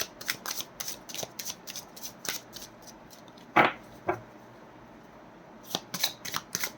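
Tarot cards being shuffled and drawn give soft, quick riffling flicks in short clusters, with a sharper snap partway through, close and quiet.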